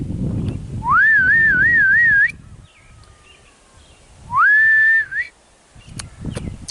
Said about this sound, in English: Tries to whistle.